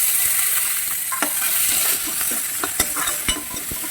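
Washed ivy gourd (kovakkai) being stirred and mixed as it fries in a pan with onion and tomato, a continuous close sizzle broken by scraping spoon strokes and occasional sharp clicks against the pan.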